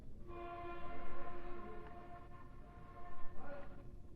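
A TCDD E 68016 locomotive hauling the Erciyes Express rumbles past near Niğde, with a steady, horn-like tonal drone that swells toward the end, fairly faint and distant, with no voices.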